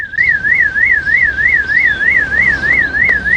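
Loud siren-like car alarm sweeping up and down in a fast, regular wail, sounding nonstop from start to finish with nothing else audible.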